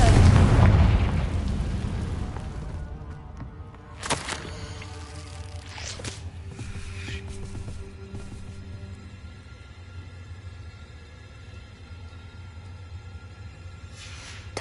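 The Confringo spell in Hogwarts Legacy sets off a loud explosive boom at the start that slowly fades, followed by a couple of sharp impacts and a lingering game ambience.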